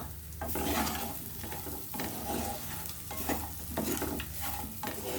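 Cumin seeds fry in a pan for a bitter gourd stir-fry, giving a steady close sizzle broken by repeated scraping strokes of a stirring spoon.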